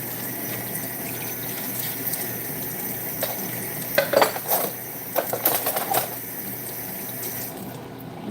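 Dishes are washed in a sink under steady running water, with scattered clinks and clatters of crockery that grow busier midway, all close and fairly loud.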